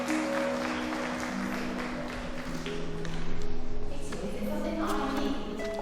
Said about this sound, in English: So I think she deserves a clap